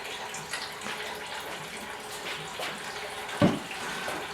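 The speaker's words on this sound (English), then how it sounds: "First things first, gotta drain out some of that antifreeze." Antifreeze drains out of the engine of an old classic truck with a 454, a steady liquid stream splashing close by with one brief louder gurgle near the end.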